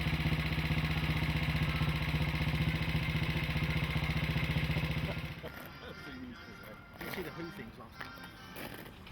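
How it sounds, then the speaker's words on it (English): A motorcycle engine runs steadily in a fueling area behind a clubhouse at a Brooklands gathering, a loud, even drone that cuts off about halfway through, leaving quieter background noise. "someone checks his engine"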